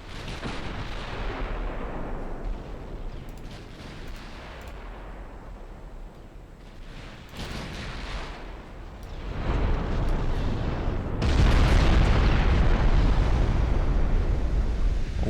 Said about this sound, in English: Not much you can do about that when they're firing an AEP shell.